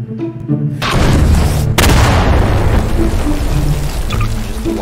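A bomb launched in Garry's Mod goes off with a loud, close explosion, a sudden blast followed by a second burst and a long crackling, rumbling roar of debris, with a faint hum underneath.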